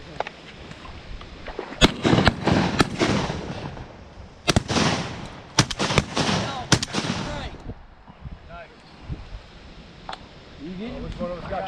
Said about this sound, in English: I think me and Jake fired at the same time